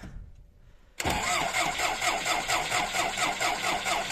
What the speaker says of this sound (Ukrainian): І зараз буде холодний запуск.